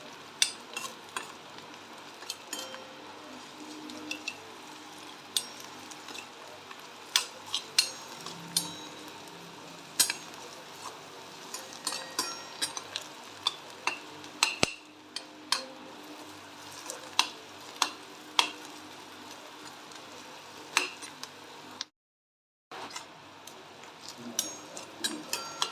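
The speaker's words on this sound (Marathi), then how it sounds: "तेलामध्ये चांगल्या प्रकारे कांदा फ्राय करून घ्यायचा आहे।" Onion with cumin and garlic paste frying in oil gives a soft, steady sizzle, with frequent light clinks and scrapes of a spoon stirring against the pan.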